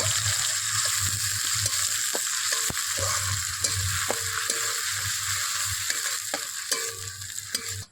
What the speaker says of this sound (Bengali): দিয়ে দিলাম পেঁয়াজটাকে একটু নাড়াচাড়া করে নেব